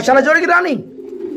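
A pair of black beauty fancy pigeons, male and female, at a pigeon farm. Someone speaks first, then a soft, low cooing rolls on close by for about half a second.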